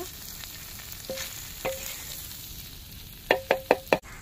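Masala-coated croaker fish fries in oil Mangalore style, a soft steady sizzle broken by a couple of light taps and then four quick, louder knocks of utensils near the end.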